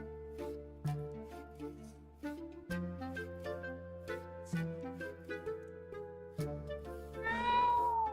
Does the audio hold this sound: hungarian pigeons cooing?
no